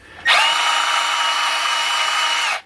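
A Mini ICON 3/8 cordless ratchet whirs at full speed in one loud, steady burst of about two seconds, starting and stopping cleanly with a high motor whine.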